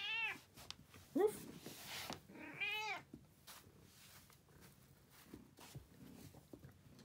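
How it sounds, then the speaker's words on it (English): A pet cat gives two or three short, bleating meows near the start, followed by soft shuffling and quiet background noise. "Why are you meowing like a sheep?"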